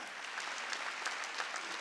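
A church congregation at a Wednesday worship service claps steadily, a dense patter of many hands heard from some distance, continuous across the short moment with no voices.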